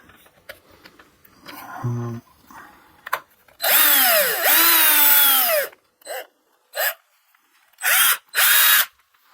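A power drill whirs in several short bursts, winding up and down in pitch, with quiet pauses between.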